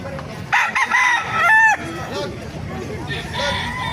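A black bulik gamefowl rooster crows nearby among other fowl, with a brief strained crow and clucking as people talk in the background.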